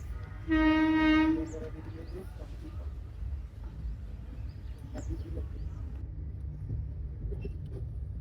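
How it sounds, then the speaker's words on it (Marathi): A Ratnagiri passenger train bound for Mumbai gives a loud horn blast, then rolls past with a steady rumbling clatter of wheels and carriages. "150104 मुंबईला जाणारी रत्नागिरी पॅसेंजर ट्रेन आहे ही"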